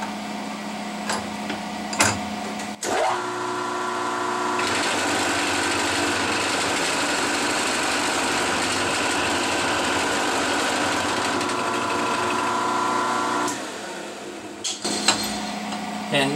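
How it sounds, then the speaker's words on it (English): Machine shaving down the sides of a metal master cylinder clevis, a steady, loud, whining buzz that runs about ten seconds before cutting off, with clicks and handling knocks before and after. "I'm just shaving each side down a little bit to fit the stock pin"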